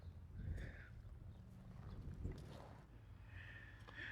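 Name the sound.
horses nearby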